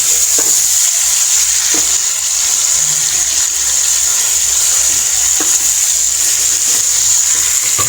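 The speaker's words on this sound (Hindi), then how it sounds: "चिकन को हमने करना है फ्राई तकरीबन 5 से 10 मिनट में इसको" Chicken for tikka karahi fries in a pan with a steady, loud, close hiss that holds throughout, with faint scrapes of stirring now and then and no talking.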